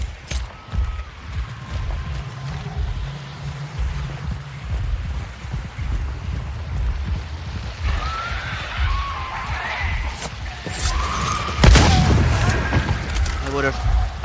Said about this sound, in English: I would have preferred to have done that a lot more quieter without a gunshot